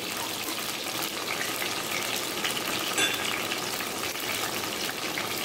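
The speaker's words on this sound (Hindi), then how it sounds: "इसको थोड़ी देर फ्राई होने देंगे 2-3 मिनट" Tomato puree masala fries in a pan with a steady, dense sizzle that stays even and close throughout, with no talking.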